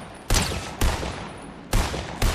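Gunfire in the Fortnite video game, four sharp loud shots spaced irregularly over a steady background, each with a quick decaying tail.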